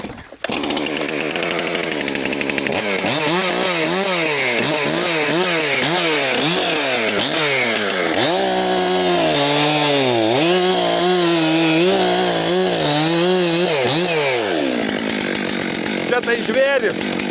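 A second, more powerful chainsaw cutting firewood in a farmyard, its engine whining and dropping in pitch with each cut, loud and close and sustained throughout, with a few faint remarks in the background.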